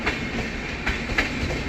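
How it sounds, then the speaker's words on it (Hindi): Avadh Express passenger train passing at speed on an Indian railway line, a steady close rumble of wheels with rhythmic clickety-clack over rail joints. "लो भाई स्पीड हो गई अवध एक्सप्रेस"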